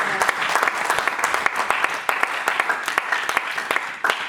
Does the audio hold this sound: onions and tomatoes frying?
no